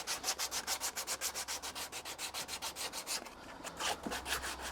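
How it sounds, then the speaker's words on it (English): A horse's hoof being sanded with coarse 120 grit sandpaper before shoeing, heard as steady rhythmic back-and-forth rasping strokes, close and loud, with a brief pause near the end. "So I'm just going to sand the foot off with a real coarse sandpaper."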